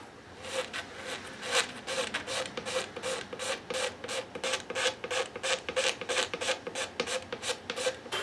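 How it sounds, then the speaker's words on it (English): A flexible razor blade scraping across a compound-radius guitar nut, a dry rasping creak repeated in quick, even strokes, close and steady with no talking. "I just scrape them clean."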